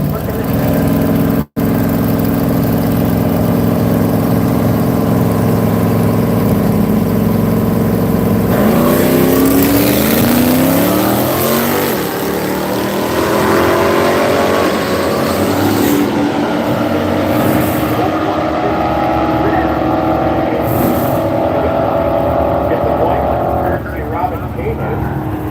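A 1964 Chevy Nova straight axle nostalgia drag race car engine, loud and continuous, droning steadily before rising into a harsher, rougher roar partway through, with a crowd or announcer faintly under it.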